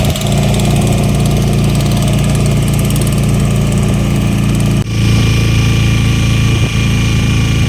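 A motor boat engine runs steadily at slow speed while fishing boats pass through the Muthupettai mangrove forest waters, a loud, continuous low drone with a brief dip midway, with no talk.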